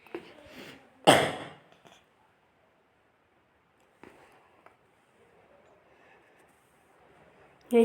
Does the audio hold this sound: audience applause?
no